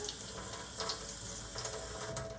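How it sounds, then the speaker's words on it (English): Water from a kitchen tap runs in a steady, unbroken hiss into the sink as a vegetable's top is rinsed while cooking a chicken pie with mushrooms, close and continuous with no speech. "I just rinse the top and I open it up a little bit and just get the water in there."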